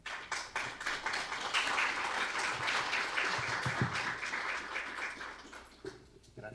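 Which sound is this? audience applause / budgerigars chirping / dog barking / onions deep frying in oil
audience applause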